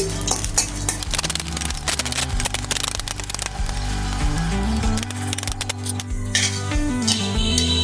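Dried chilies fry slowly in hot oil over low heat, giving a steady close crackle and sizzle with occasional scraping stirs, all under continuous background music.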